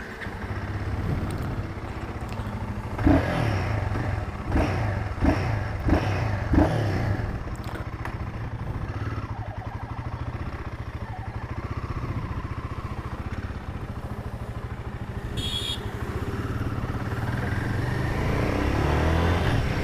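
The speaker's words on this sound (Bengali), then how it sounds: "তো চলো একটুখানি বাইকটাকে ভাঙানো যাক, টেস্ট করা যাক যে কত দূর কী পারফর্ম করতে পারছে" A Royal Enfield Guerrilla 450 motorcycle on a test ride, its engine droning steadily with a few sharp clattering knocks early on and rising revs toward the end, heard from the rider's position with wind noise and no talk.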